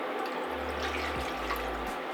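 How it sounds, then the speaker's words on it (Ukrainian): Milk poured into a saucepan over medium heat while making a chocolate-orange sponge cake, a short steady liquid stream lasting about two seconds, close and alone. "наливаю молоко"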